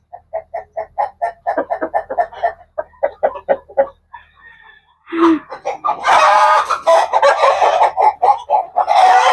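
A shiny black hen clucks in quick rhythmic bursts close by, then a louder, denser run of squawking calls follows.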